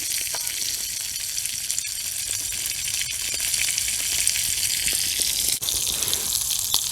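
Eggs fry with sausage over a campfire in a loud, steady sizzle that crackles throughout and carries a few sharper pops, close up and with no talking.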